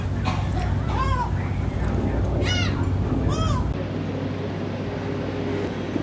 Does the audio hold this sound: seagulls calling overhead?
yes